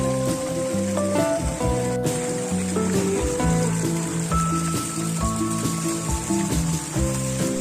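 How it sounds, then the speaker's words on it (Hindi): Cold, fast-flowing water rushing between rocky boulders at a waterfall, a steady close roar of splashing and gurgling throughout, overlaid by prominent sustained music tones. "चट्टान के पत्थरों में से बहता पानी काफी तेजी से बह रहा है और काफी ठंडा भी है।"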